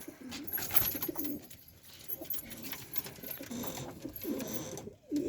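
Domestic pigeons, some suffering from pox, cooing in a low, murmuring way across a loft, with bursts of coos rising and falling at close range against a faint background.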